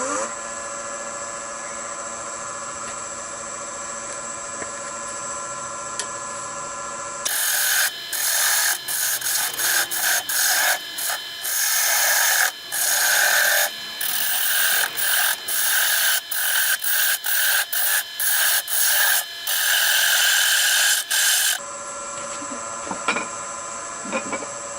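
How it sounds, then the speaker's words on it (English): A half-inch spindle gouge cutting timber on a wood lathe, a close, loud rasping scrape with rapid rhythmic bursts, set between stretches of the lathe's steady whirring hum with no talk. "I'm going to start with a 1/2 inch spindle gouge."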